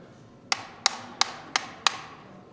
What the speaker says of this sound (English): Using a hammer and a mallet, break free the crossover rings